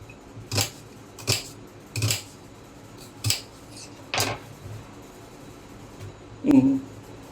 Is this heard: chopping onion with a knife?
yes